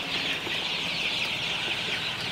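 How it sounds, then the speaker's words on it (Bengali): Sonali super hybrid chicks, 22 days old, crowd around vaccine water: a dense, unbroken chorus of high peeping fills the whole stretch at a steady level. "তো আপনারা দেখতে পাচ্ছেন বাচ্চাগুলো কিভাবে খাইতেছে"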